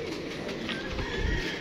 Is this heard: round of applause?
no